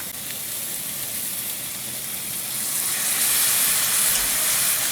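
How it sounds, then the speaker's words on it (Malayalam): Ground masala sautéing in a pan for a Kerala-style chicken curry gives a steady, close sizzling hiss that swells louder toward the end, with no voices. "മസാലയും കൂടെ ഒന്ന് വഴറ്റിയെടുക്കാം"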